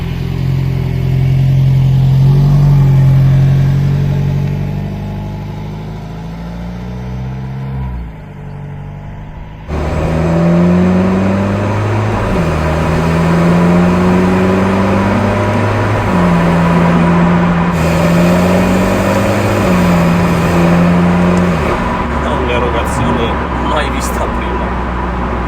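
Alfa Romeo 4C Spider Italia with an Akrapovic valved exhaust, the engine droning and rising through gears while driving, loud and close, with a steady hum and gear shifts audible throughout.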